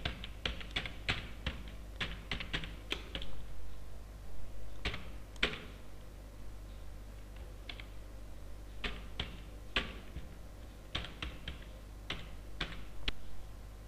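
Computer keyboard keys click while text is typed into a presentation slide, bursts of rapid taps separated by short pauses, close and moderately loud with no talking.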